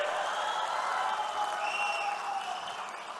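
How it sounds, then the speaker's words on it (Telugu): A large crowd at the Mahanadu party rally claps in a dense, sustained wash of applause that holds steady for a few seconds before easing slightly, heard at a distance without clear voices. "గట్టిగా చప్పట్లు కూడా చెప్పాలి"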